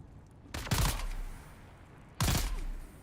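Gunfire in the video game Dune: Awakening, two separate bursts of shots with a boom, each followed by a lingering rumble, loud and near against a quiet background hiss.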